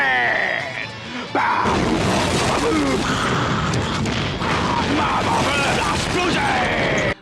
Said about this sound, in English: Michael Bay explosion!